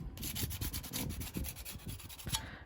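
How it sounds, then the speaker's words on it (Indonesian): Sandpaper rubs back and forth over a brass piece being cleaned before soldering, a steady, close, gritty scraping in quick repeated strokes with no talk. "Ini diamplas semua."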